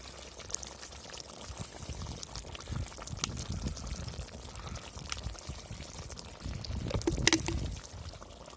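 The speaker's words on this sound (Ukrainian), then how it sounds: "Друзі, додаємо пиво яке залишилося." Leftover beer is poured into a pot of pork belly, a steady close liquid stream gurgling and splashing throughout, swelling slightly louder near the end.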